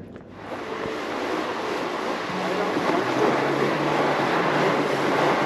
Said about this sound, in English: You can hear the water flowing pretty good underneath here.